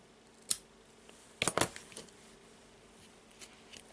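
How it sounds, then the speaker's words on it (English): Scissors cutting braided crochet cord for a handmade bracelet, a few faint sharp snips and clicks, one near the start and a denser cluster in the middle, in a quiet room. "I'll take the scissors and cut."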